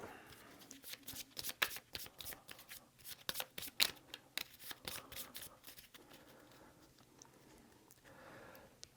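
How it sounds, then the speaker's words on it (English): A deck of board game action cards being riffled and shuffled close up, quick crisp bursts of flicking that settle into softer handling. "immediately shuffle all New York action cards to create a new deck"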